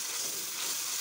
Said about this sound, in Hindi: इनको अच्छी तरह फ्राई कर लेना है